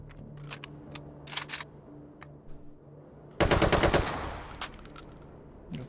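Automatic AK rifle fire in the VR shooter H3VR: a loud, rapid burst of several shots at close range, preceded by scattered sharp clicks and softer handling noises.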